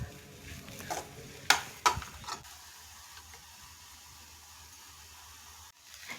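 A spoon mixes churumuri avalakki, spiced flattened rice, in a bowl: a few sharp clinks and scrapes near the start, then a quieter stretch of faint dry rustling as the mixing continues. No one speaks.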